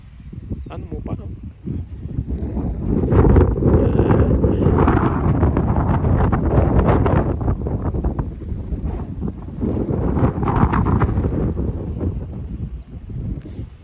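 Strong gusting wind buffets the microphone on a mountain road under construction, roaring in two long surges with brief lulls, loud and close throughout.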